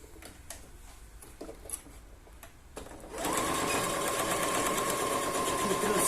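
A sewing machine stitching a patchwork pouch closed: a few soft clicks and handling sounds, then a close, steady motor whir with rapid needle ticking that runs to the end.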